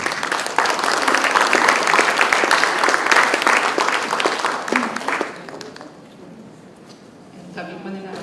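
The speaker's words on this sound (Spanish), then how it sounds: "Así que un aplauso para Marta." An audience at a panel discussion applauds a speaker with loud, dense clapping for about five seconds. It fades away, then a voice starts talking near the end.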